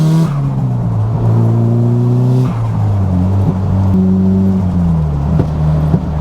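A turbocharged Nissan S15 Silvia drives past loudly and up close, its engine note climbing through the gears with shifts and renewed acceleration, sustained and droning throughout.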